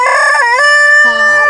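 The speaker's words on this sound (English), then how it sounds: "this is his favorite chicken" A pet chicken, a favored bird on a small farm, crows loudly and close with a bright, sustained harmonic call that breaks into a couple of shifting clucking notes, with no talk over it.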